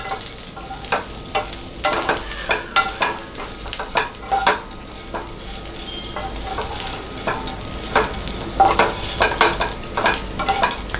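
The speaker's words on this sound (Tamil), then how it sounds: "இதை நல்லா மிக்ஸ் பண்ணி விட்டுக்கோங்க" Food is stirred and mixed in a hot pan, with a loud, steady sizzle and repeated rhythmic scrapes and knocks of a spoon against the metal.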